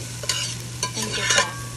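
Ratatouille vegetables with salt and pepper are stirred in a pan, a run of quick scraping strokes against a soft sizzle, close and fairly loud, with no talking.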